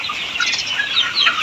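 Layer hens and ready pullets on a poultry farm in Dimla, Nilphamari, Rangpur, cluck and chirp in a dense, continuous flock chorus, close and steady, with no talking.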